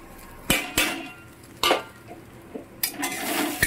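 A spoon scrapes and clinks against a pan as spiced vegetable sandwich filling with cumin, black pepper and turmeric is mixed, giving a few sharp knocks and scrapes over a soft background hiss.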